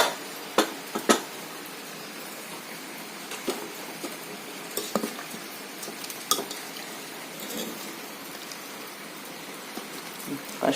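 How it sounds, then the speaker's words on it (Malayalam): Pressure cooker lid is opened and sambar stirred in a metal pot: scattered metallic clinks and scrapes of utensil against cookware over a soft steady hiss, close and moderately quiet, with occasional sharper knocks. "കുക്കറിൻ്റെ അടപ്പൊന്ന് തുറന്ന് നോക്കാം"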